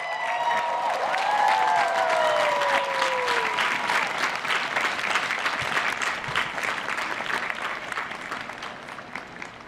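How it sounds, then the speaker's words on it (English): Graduates of the University of Virginia Class of 2021 at their final exercises give a long, loud round of applause to the people who supported them, a dense crowd clapping steadily with a few whistles rising above early on. "give a huge round of applause to those who helped you on this journey"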